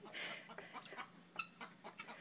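A rooster's clucks and short squawks come in quick bursts, close by, with one sharper call partway through.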